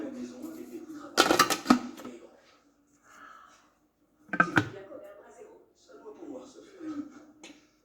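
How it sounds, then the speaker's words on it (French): Plastic lid fitted onto a food processor bowl while making pizza dough, two sharp clattering clunks close by, one at about a second in and another a few seconds later, with talking throughout. "On va insérer le couvercle."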